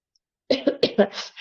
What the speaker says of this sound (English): I'm having cough